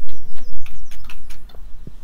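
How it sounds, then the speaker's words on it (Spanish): Birds chirp in Stardew Valley, with short bright tweets repeating over a loud, steady game backdrop and no talk. "A los pájaros sí se escuchan."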